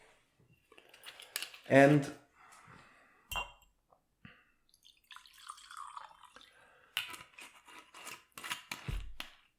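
Whiskey poured into a glass, with clinks of glass, a gurgling trickle of liquid and small knocks as the bottle and glass are handled close by, amid faint room noise and a brief bit of speech.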